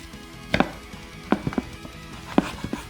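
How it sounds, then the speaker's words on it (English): A knife chops through a rack of lamb on a board, separating it into individual chops: a few sharp, close thuds come in small clusters, with quiet pauses between them and no talking. "I'm going to use the knife and cut this lamb rack in small individual pieces."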